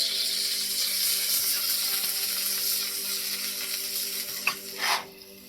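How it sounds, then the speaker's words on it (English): Beef sears in a hot pan with a steady, loud sizzle and crackle that holds for several seconds, with a couple of brief scraping clinks near the end. "Sear it until the meat is no longer raw."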